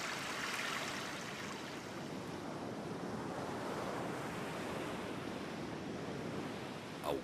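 Ocean waves wash steadily onto Praia dos Concheiros, a wild beach strewn with fossil shell fragments, a continuous broad rushing surf with some wind noise and no voices.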